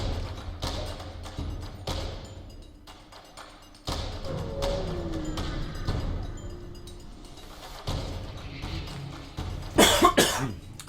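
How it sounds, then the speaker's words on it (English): A gamer playing FTL at a desk clears his throat in a short, harsh rasp near the end, after scattered soft thumps and taps from the desk and room. "Clear my throat, grab a drink."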